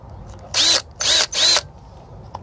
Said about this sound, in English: So I'm gonna hold on to the saw or the drill here with both hands.